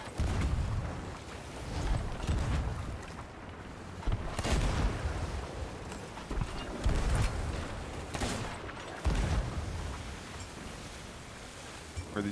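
Ship cannons fire in a video game naval battle, a steady run of heavy booms every second or two over constant rumbling background noise, with no talking.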